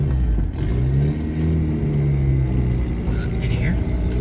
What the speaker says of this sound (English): We'll come back up the hill and hit a little bit of turbo boost and spooling.